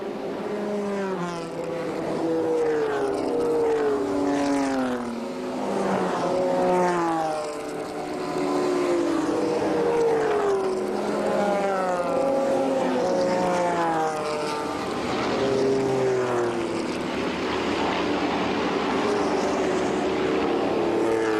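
Vintage race cars such as a Ford Mustang Shelby, Corvette Stingray, Alpine, Porsche and Lotus lapping a circuit in 1995. Overlapping engine notes rise and fall as cars pass one after another, loud and sustained, with no talking.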